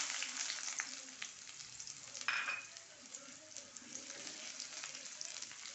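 Mustard seeds crackle and spit in hot oil for a jackfruit seed masala curry, a busy close sizzle speckled with rapid small pops and one sharper burst, with no one talking.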